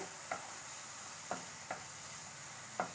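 Mango and tomato pieces cook in a pan, a faint steady sizzle with a few quiet spatula scrapes and taps as they are stirred, no voices.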